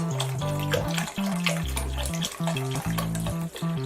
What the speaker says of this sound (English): we're going to add the remainder of the broth